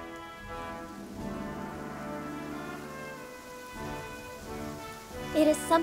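Steady monsoon rain falls continuously, heard from a courtyard in the Philippines, with a soft even wash and a few louder bursts near the end.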